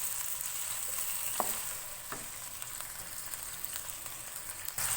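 Chicken sizzles and fries with garlic-ginger paste in a pan over high flame, a steady close hiss broken by a few stirring scrapes, with no voices.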